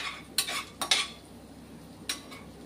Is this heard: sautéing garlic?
yes